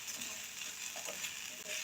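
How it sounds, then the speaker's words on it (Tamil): Grated coconut sautéing in ghee for beetroot burfi makes a soft, steady sizzle with light stirring, faint and brief, with no one speaking. "இதை வந்து நல்லாவே நாங்கள் வதக்கி கொண்டிருக்கோம்"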